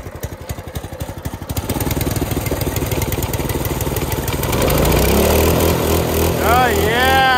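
A Ford F150 truck engine, starting as a rough, pulsing idle and then rising into a loud, steady roar with a higher revving whine, heard close by with people talking over it.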